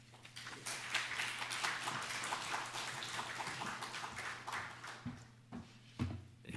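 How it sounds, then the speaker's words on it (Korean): A church audience at a Wednesday worship service claps in sustained applause to welcome a pastor, fairly distant, then tapering off into a few scattered claps. "우리 큰 박수로 우리 한 목사님 모시도록 하겠습니다."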